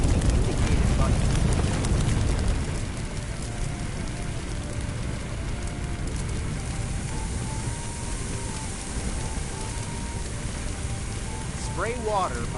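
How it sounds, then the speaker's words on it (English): Water sprays from a hose in a PS5 firefighting simulator game in a constant hiss, loudest at the start, then settling into an even, steady rush. "Spray water by using the indicated button."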